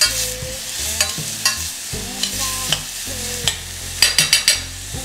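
Marinated leek and fish cook in a pan, sizzling steadily while a utensil scrapes and stirs in repeated sharp knocks and scrapes, with a quick run of clicks near the end and no voices.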